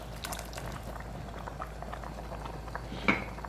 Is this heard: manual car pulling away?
no